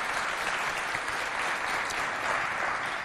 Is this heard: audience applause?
yes